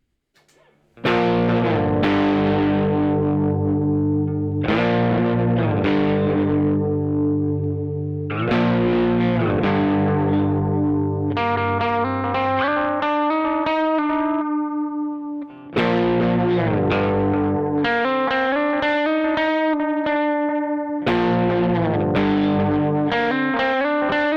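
Electric guitar through a Memory Boy analog delay pedal, strummed chords and picked melodic lines ringing out loudly with gritty, slightly modulated repeats trailing behind each phrase, played alone for over twenty seconds.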